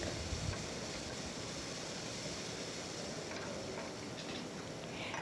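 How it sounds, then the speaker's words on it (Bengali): Dried kachki fish with potato and eggplant cooking in a pan over medium heat, a steady close sizzle with faint stirring scrapes, no talking. "তারপর ঢাকনাটা খুলে নিয়ে আবারও একটু নেড়ে চেড়ে মিশিয়ে নিচ্ছি"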